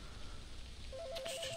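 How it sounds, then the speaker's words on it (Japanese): A telephone rings in the Tsugunohi horror game, a faint warbling two-tone electronic trill starting partway through over a low, steady ambient background. "おおお電話が鳴ってる。"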